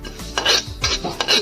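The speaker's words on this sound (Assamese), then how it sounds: "ৰঙচুৱা হোৱালৈকে মই ভাজি ল'লোঁ" Spices for a king chilli and mango pickle being fried and stirred in a pan, with three quick, close scraping strokes of a utensil against the metal.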